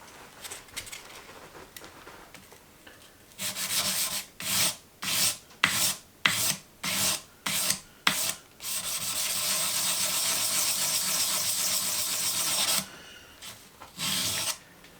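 A file is drawn again and again over the bevel of an axe blade to sharpen it, giving close rasping strokes in a steady rhythm, then one long continuous scrape, then a few more strokes.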